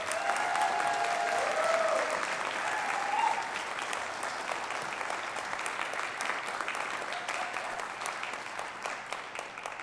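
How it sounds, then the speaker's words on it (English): Applause from a concert audience for a school symphonic band at a spring band and orchestra concert, a steady dense wash of many hands sustained for about ten seconds, moderately distant, with faint voices mixed in. "Can we give a big round of applause again for our symphonic band?"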